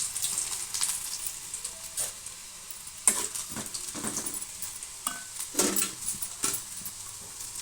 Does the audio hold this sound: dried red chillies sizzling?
yes